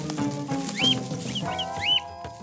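A chicken clucks a few times in short rising calls over a busy background of other sounds, fairly close and moderately loud.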